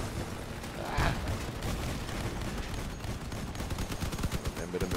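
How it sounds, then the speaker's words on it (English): Gunfire strikes a player's armored vehicle in the combat game Crossout, a dense, continuous rattle of shots and impacts under loud engine rumble, with a few sharper bangs breaking through. "Taking some fire from my friend there"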